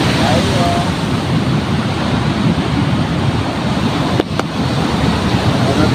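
Ocean waves wash against the shore where someone is fishing from the water's edge. The surf is a loud, continuous roar mixed with gusty wind rumble on the microphone.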